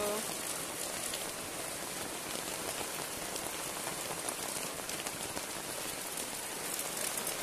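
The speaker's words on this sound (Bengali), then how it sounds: "প্রচুর পরিমাণে বৃষ্টি হচ্ছে বন্ধুরা, দেখো রাস্তাঘাট পুরো বৃষ্টিতে ভর্তি।" Heavy rain pours onto a village road in a dense, unbroken patter that stays close and loud throughout, with no pauses.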